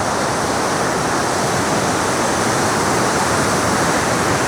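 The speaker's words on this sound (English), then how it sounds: "And you see water rushing on that side." Water rushing loudly through a stream beneath a narrow trail bridge near small falls, a dense, steady roar with no breaks.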